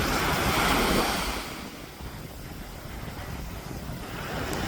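Sea waves surge and wash loudly near the shore as a boat is paddled out, with a strong rush at first easing to a steady roar and gusts of wind buffeting the microphone.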